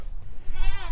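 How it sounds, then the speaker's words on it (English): Goats at a goat sanctuary give a short, nearby bleat that rises into a wavering cry, with a second animal faintly in the background. "some goat vocals for Luke's song."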